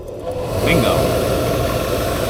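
The fans of an outdoor wood boiler switch on and settle into a loud, steady whirring hum with a low mechanical drone. Someone speaks one brief word over it.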